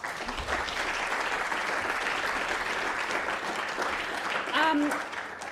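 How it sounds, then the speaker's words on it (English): A lecture hall audience applauds at a public lecture on power, profits and price gouging, sustained even clapping filling the room, with a brief voice and a whistle-like tone rising near the end. "Round of applause."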